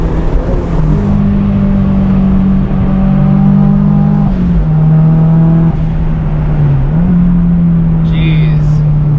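A 1970 Datsun 240Z with an SR20DET engine drives under load with a loud, steady engine drone from inside the car, its pitch dipping and rising as the throttle changes.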